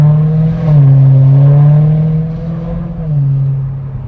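A BMW M3 E92 with 140k miles and a warmed-up engine revs hard while accelerating, a loud, steady in-cabin engine drone whose pitch climbs and shifts through gear changes, with no talking.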